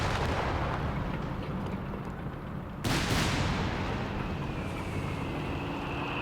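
Artillery barrage in Company of Heroes 3, a 2v2 match: a continuous rumbling roar of shelling with a sudden heavy impact partway through, loud and sustained, no talk.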